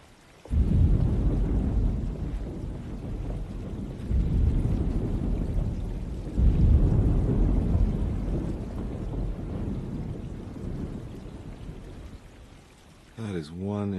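Rolling thunder booms and rumbles through a storm in the horror game Alone In The Dark. The surges are loud and low, several of them over steady rain, and a short electronic warble comes in at the end.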